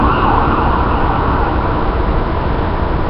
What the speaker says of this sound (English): Sorry, an ambulance just went by. I don't know if you heard the siren or not